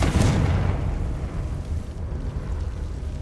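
Confringo blasting spell detonating in Hogwarts Legacy, a single loud, close boom with a sharp onset that rolls into a dense, rumbling tail lasting a few seconds, no voices over it.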